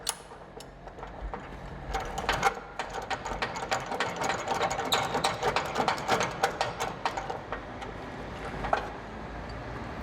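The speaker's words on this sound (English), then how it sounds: "Open up my ratchet binder." A ratchet binder is worked open on a load securement, giving a run of quick metallic clicks and ratcheting snaps at close range, with no talking.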